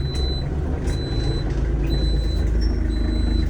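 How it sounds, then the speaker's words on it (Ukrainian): Steady high-pitched reversing beeps repeat at an even pace over a loud, constant engine rumble from a 2009 Iseki AT 25 tractor with a cab. "То, що пікає, це у нас задній ход пікає."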